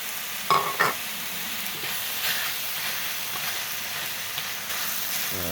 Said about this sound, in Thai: ขั้นตอนต่อไปนะครับคั่วหมูจะซุกเลยเกลือส้มหรือบะกระเทศนะครับ